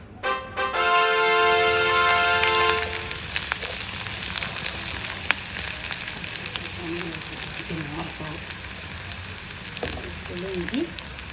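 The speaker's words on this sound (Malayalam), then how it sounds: "ഇതിനകത്ത് വെളുത്തുള്ളി, പച്ചമുളക്, ഇഞ്ചി, വേപ്പില ഒക്കെ വറുത്ത് കോരുക." Garlic, green chilli, ginger and curry leaves fry in hot oil with a loud, steady sizzle that starts with a burst and settles into a dense crackle, with a few faint clinks and scrapes along the way.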